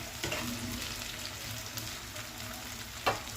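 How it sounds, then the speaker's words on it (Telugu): Sliced onions fry in a pan for a bitter gourd karam, a close, steady sizzle and crackle with a sharp stirring scrape near the end. "ఇలా ఫ్రై అవుతే సరిపోతుంది ఉల్లిపాయలు"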